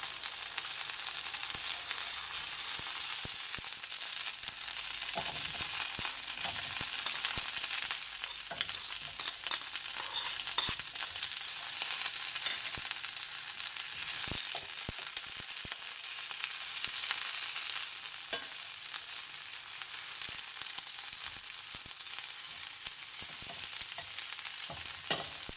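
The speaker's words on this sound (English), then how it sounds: "I'm going to saute these for several minutes" Tomatoes, onion and garlic sauteing in about two tablespoons of hot oil in a preheated pan give a steady, bright sizzle with occasional stirring scrapes and pops, with no talking.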